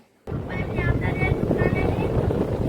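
Strong wind buffets the microphone in a steady low roar after a brief silent start, with a faint tonal hum running through it.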